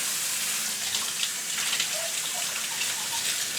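Running tap water rinses a grocery store Phalaenopsis orchid, a steady close hiss of flowing and splashing water with faint dripping tones.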